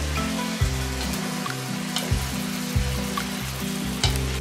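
Diced tofu stir-fried gently in a pan for mapo tofu over medium-low heat gives a steady sizzle with faint crackles, while a low repeating hum pulses underneath.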